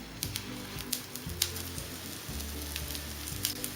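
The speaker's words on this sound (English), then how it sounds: "I have heated a skillet with some oil. Carefully place the tikki." Aloo tikki shallow-fry in oil in a heated skillet, giving a steady close sizzle with scattered crisp pops and spits, over a low background hum and without speech.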